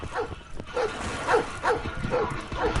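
Dogs barking in a Call of Duty: Black Ops 4 beta hardpoint multiplayer match, a series of about six evenly spaced yelping barks at moderate distance, with faint game noise and some talk around them.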